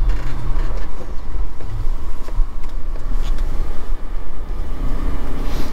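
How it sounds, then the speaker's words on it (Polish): A BMW X5 E53 with a 3.0 diesel engine pulls away on an empty public road up to about 60 km/h, a loud, steady low drone of engine and road rumble filling the whole stretch with no voices. "możemy Wam pokazać jedynie przyspieszenie do 60 na godzinę"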